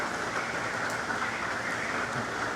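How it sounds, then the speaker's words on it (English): Steady rain falling during Hurricane Milton, a dense continuous hiss with a low rumble underneath and no voices. "It's been raining all morning."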